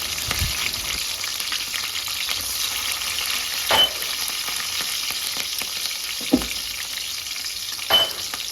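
Chopped green chillies and onions frying in hot oil with fenugreek seeds, a steady close sizzle with a few sharp clinks and scrapes of a spoon stirring the pan.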